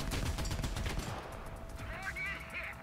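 Heavy machine guns rattle from a light tank in a tank combat game, a dense burst of rapid shots up front that thins out, with a steady tone and some game effects underneath.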